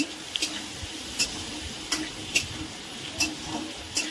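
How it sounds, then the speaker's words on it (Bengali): Potatoes and pumpkin stirred in a wok, a spatula scraping and clacking against the pan in a regular rhythm of sharp ticks over a soft sizzle, close and without talk. "কড়াইতে দিয়ে ভালো করে নাড়াচাড়া করে নিলাম"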